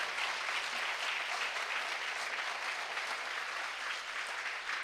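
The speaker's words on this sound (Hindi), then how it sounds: "आप जोरदार तालियां बजाकर बाबूजी की अनुमोदना करें।" Dense, sustained applause from a large crowd at the closing ceremony of a religious scripture study camp, an even roar of clapping throughout with no talk over it.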